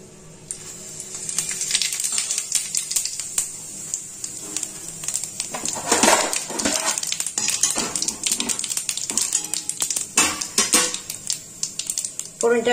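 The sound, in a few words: bay leaf, dried chilli and cumin tempering in hot oil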